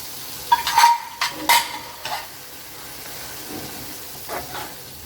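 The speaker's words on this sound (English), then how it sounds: "Now we'll be frying this." Beans for paruppu usili tossed in a pan, a few sharp clattering stirs of a spoon against metal over a faint sizzle, close and intermittent, then quieter scraping.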